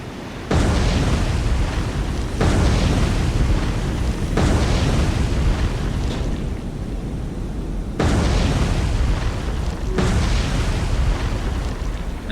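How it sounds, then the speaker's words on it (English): Torpedo detonations in a naval submarine game, heard as a series of heavy, loud booming blasts, about five in close succession, each a broad rumbling burst with no talking over them. "5 out of the 6 detonated."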